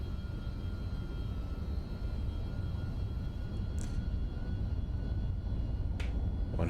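MD-11 jet engines hold a steady, even roar during the takeoff roll in a flight simulator game, a constant broadband rumble broken only by two faint, brief clicks.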